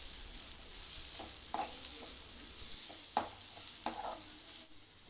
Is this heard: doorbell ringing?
no